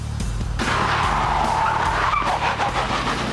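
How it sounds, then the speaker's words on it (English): A stunt car does a big skid on London streets for a police drama, loud tire squeal over a roaring engine, rising sharply after a short lead-in and sustained for a few seconds without speech. "They can't resist the big skid on the Bill,"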